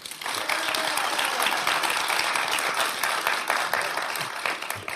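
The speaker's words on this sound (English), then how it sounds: "Big warm round of applause for Kurt Sauer" A live audience in Mountain View applauding steadily for several seconds, dense and continuous clapping filling the room, with no talk over it.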